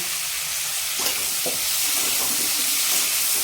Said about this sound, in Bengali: পটলটা দিয়েও একটু ভাজবো